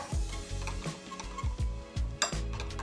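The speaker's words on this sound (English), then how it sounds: "And give it a little stir." Spoon stirring a dumpling dipping sauce with coriander in a bowl, a rhythmic run of clinking taps against the side, close and fairly quiet, with no talking.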